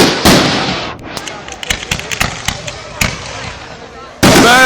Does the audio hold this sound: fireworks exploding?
yes